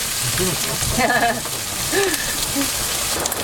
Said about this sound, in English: I'm going to put my bamboo shoots in there, warm those up for a minute.